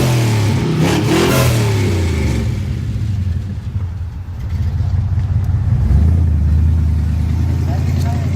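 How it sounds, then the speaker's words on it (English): A car accelerating away from a car meet, its engine revving loudly and close at first, dipping briefly, then surging again into a deep rumble; people are talking nearby. "Do a little rev when you leave for the camera."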